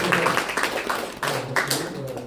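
Audience applause at a campaign office opening ceremony in Yongsan, Seoul, a short burst of scattered hand claps that rises and falls, with voices mixed in.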